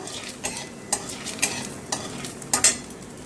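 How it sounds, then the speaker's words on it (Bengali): Black cumin seeds tempering in hot oil left from frying eggplant, crackling and sizzling steadily while a spoon scrapes and stirs them in a few sharp, close bursts, with no talking. "এবার তেলের মধ্যে দিয়ে দেবো একটু কালো জিরে ফোড়ন"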